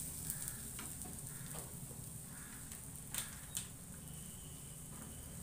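Asafoetida hits a spoonful of hot oil for a chawli sabzi, making a faint, even sizzle with a few small pops and clicks and no voices.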